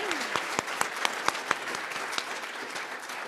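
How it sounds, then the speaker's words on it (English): Audience applause at a spring education graduation pinning ceremony for special education graduates, a steady wash of many hands clapping with a few sharper nearby claps standing out, moderately loud, with no talking over it. "let's give a round of applause to our special education graduates."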